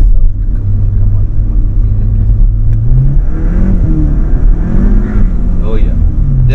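A Skoda Octavia RS245 running a Revo Stage 2 OPF map revs hard while driving, with a loud engine note climbing in pitch under cabin noise and people talking.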